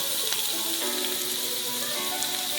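Spices such as turmeric, cumin and coriander powder frying in a pan with potato and kohlrabi for a Bengali curry, a brief close hissing sizzle with faint crackles over light background music.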